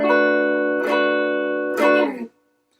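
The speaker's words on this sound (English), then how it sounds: "So that would make my minor 7th chord like this." A single minor 7th guitar chord rings out, is struck again twice, and sustains clearly before being muted abruptly at the end.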